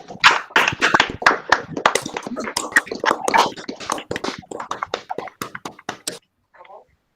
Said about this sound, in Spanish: dando un segundo aplauso a Carlos